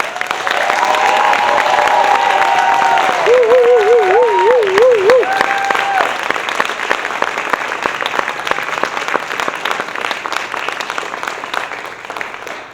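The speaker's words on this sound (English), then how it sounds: "Everyone please give her a round of applause." Audience applause at the close of a Bharatanatyam arangetram dance recital, a loud, dense wash of clapping that holds steady for several seconds, briefly joined by a wavering tone early on, then gradually thins and softens toward the end.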